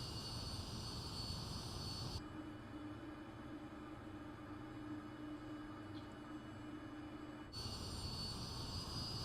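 Airplane engine in a flight simulator, a steady droning hum that drops to a muffled quieter tone midway, then returns to the brighter roar, with no speech.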